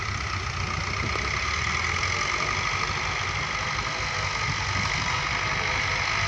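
A Massey Ferguson 265 tractor engine runs steadily at close range, a loud, continuous mechanical drone with a low throb and no speech over it.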